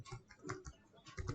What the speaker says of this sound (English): So you have to write pip install PyPower Games.